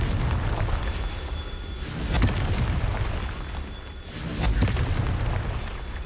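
Confringo blasting spells detonating in the Hogwarts Legacy video game, two loud booming bursts a couple of seconds apart over a dense, rumbling background.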